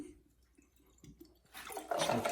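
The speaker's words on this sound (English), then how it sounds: "Let's get some water in this thing." Water pours and splashes into a container used for cleaning gold at home, starting after a quiet stretch with faint knocks and building to a steady close rush.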